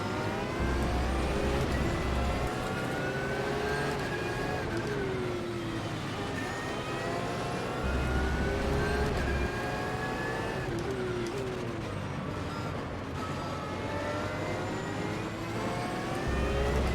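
Race cars, including Porsches, in a video game race at the start of a season's third race, engines whining and rising through gears in repeated sweeping climbs, a dense continuous roar with low thumps.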